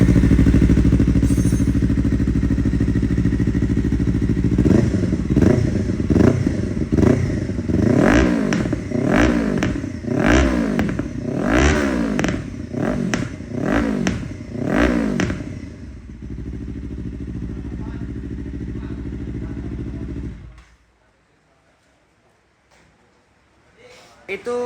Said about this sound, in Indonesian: Kita tesan aja langsung suaranya knalpotnya seperti apa.